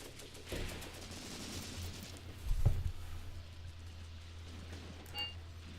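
Soldiers fire rifles and guns in a WWII-era battle in the tactical war game Graviteam Tactics Mius Front, with a few scattered shots ringing out over a steady low rumble, the loudest burst in the middle.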